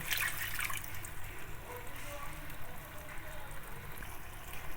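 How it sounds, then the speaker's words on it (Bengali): Spice-rinsing water is poured into an egg dish being cooked, giving a steady soft trickle and sizzle that runs quietly throughout. "মশলা ধোয়া জলটা আমি এর মধ্যে দিয়ে দিলাম।"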